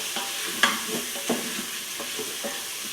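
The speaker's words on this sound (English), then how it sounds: "Gonna stir that around there so all that stuff starts cooking and getting brown." Spiced food frying in a pan is stirred around, a soft continuous sizzle beneath a few distinct scrapes and knocks of a spoon against the pan, nearby and quiet, with no talking.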